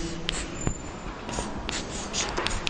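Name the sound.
writing on a board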